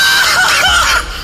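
A single short, loud scream rings out abruptly and then cuts off, as in a Hindi horror story set in a haunted house.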